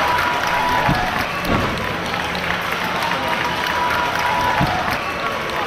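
Crowd applause and cheering fill a wrestling venue after a hard-won three-way match, a steady dense wash of clapping with a commentator talking over it throughout.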